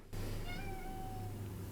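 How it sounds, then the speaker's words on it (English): A single drawn-out cat meow, fairly soft and slightly distant, over a constant low background hum. "my cat's, meowing in the background"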